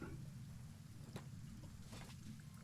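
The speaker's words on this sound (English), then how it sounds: "this is acid rain and they're going to be melting at some sort of rate" Acid rain falling in the video game Kenshi, a very faint, steady wash of hiss over a low rumble, with a couple of soft patters and no voices.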